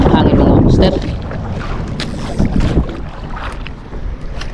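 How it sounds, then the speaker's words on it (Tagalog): Strong wind buffets the microphone in heavy gusts on a fishing boat, loudest at the start, with water and boat noise beneath. "Medyo malakas yung hangin"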